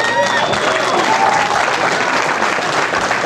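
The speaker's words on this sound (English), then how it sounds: "And I think they deserve a round of applause." Audience applause at a wrestling show, a loud and steady wash of clapping with cheering voices mixed in.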